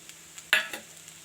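A spatula gives one short scrape while stirring poha with coriander leaves in a pan, followed by a lighter second scrape, quiet and close.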